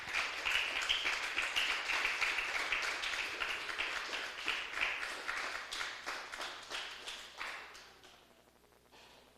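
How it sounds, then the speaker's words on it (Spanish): Church congregation clapping hard in praise to the Lord, a steady dense patter of hands that thins and fades toward the end. "Denle un fuerte aplauso al Señor"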